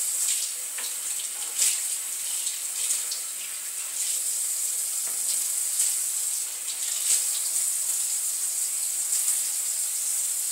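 Tap water runs steadily over a primitive wooden bow being rinsed at a sink after degreasing with lye, a continuous close hiss with small splashy shifts and no speech.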